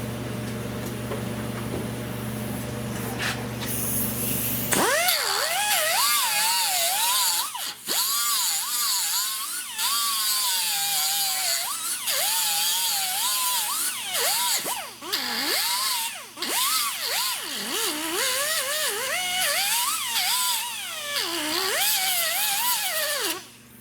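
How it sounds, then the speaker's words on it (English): Angle grinder cutting down protruding metal on a rusted-out car pillar during auto body repair, a loud continuous whine with wavering pitch that starts after a few seconds of quieter shop noise and runs steadily, dipping briefly now and then. "So this is sticking out a little too far, a little farther than I wanted. So I'm going to grind this down."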